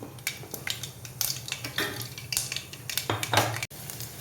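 Ginger and garlic go into hot oil for a carrot and bitter gourd pickle, with a soft sizzle under repeated clinks and scrapes of a spoon stirring against the metal pan.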